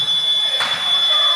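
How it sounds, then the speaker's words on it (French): An electronic buzzer ends the first half of a futsal match in an indoor hall, a steady high tone held throughout, with crowd noise and a sudden burst of sound partway through. "le buzzer qui met un terme à cette première période"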